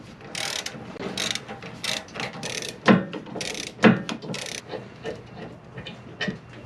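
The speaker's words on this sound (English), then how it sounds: "you have the leverage to unbolt these bolts here." A ratchet clicks in repeated bursts while loosening the bolts holding a Jeep Gladiator's bumper bar, with two louder metallic clanks between the fast pawl clicking, close and fairly loud.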